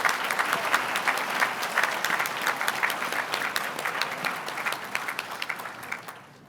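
Steady applause from an audience at a regional chamber of commerce ATHENA Award ceremony greeting the final group of nominees, dense clapping holding level for several seconds before tapering off at the end.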